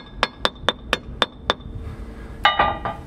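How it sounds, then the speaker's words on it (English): Six evenly spaced light hammer taps ring out on a painted metal top to break it loose on a 977H, each a sharp metallic clink. A slightly louder cluster of knocks follows after a brief pause. "Looks like I gotta give this a couple love taps to shake the top loose."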